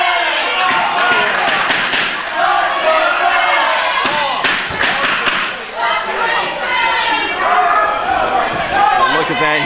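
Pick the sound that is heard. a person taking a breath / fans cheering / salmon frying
fans cheering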